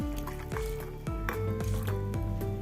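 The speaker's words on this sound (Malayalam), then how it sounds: "കുറച്ച് വെള്ളം ഒഴിച്ച് കൊടുക്കാം" Water glugs and gurgles as it is poured into a blender jar for almond chutney close up, in a rapid series of bubbling pulses.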